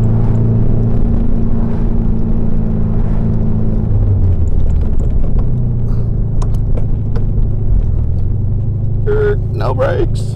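A 1972 VW Beetle on new tires rumbles along with a low, steady engine drone that shifts pitch as it runs, and some rattling and brief scraping sounds toward the end.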